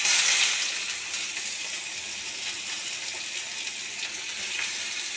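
Chopped onions added to hot oil after garlic has fried, a soft steady hiss of sizzling that is slightly stronger at first, then settles, close and with no talk.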